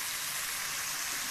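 Oil sizzles steadily in a pan while chicken curry with potatoes is sautéed. The frying hiss is close and even, with no talk over it.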